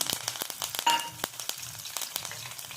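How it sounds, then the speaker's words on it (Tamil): Garlic frying in hot oil for kaara kadalai, a steady close crackling sizzle with quick sharp pops scattered throughout and no voices. "இப்போ அப்படியே நம்ம பூண்டு பொறிச்சு எடுத்துக்கலாம்"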